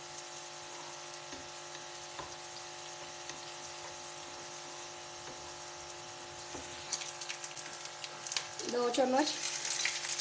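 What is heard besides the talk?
food frying in a pan for aloo gobi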